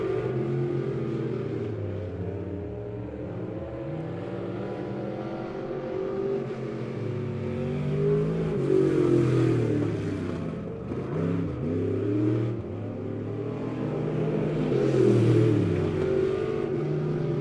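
Race car engines, including the number 56 leading, lap Midway Speedway in Lebanon on a Friday night, a continuous loud engine drone that rises and falls as cars pass and accelerate, heard from trackside and mixed together.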